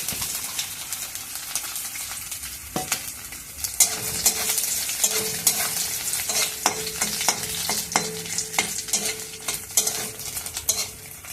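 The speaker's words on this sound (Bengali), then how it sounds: "তেলটা গরম হয়ে গেছে, এবারে নারকেলটাকে ভেজে নিতে হবে।" Grated coconut, squeezed of its water, fries in hot oil with a steady sizzle, overlaid by frequent sharp scraping stirs of a spatula against the pan.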